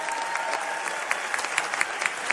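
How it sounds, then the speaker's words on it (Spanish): An audience gives a round of applause at a recognition ceremony: even, continuous clapping from a crowd, with a few sharper individual claps standing out near the end. "un aplauso"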